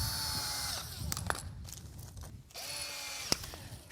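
Power drill driving the last two screws into a hoof cinch on a horse's foot, with several short whirring bursts and a pause between them, close and fairly loud.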